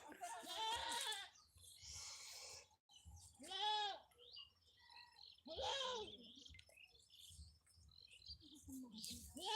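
A goat with a cold bleats several times in wavering cries, close and fairly loud, with short pauses between calls and some soft background noise.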